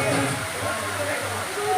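A rock waterfall roars in a constant broadband wash, with a voice over it for the whole short moment.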